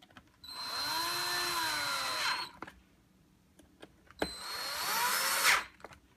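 A cordless power driver tightening screws on a Harman Kardon Onyx speaker, two close whirring bursts of about two seconds each, separated by a short pause and ending with a brief clicking stop.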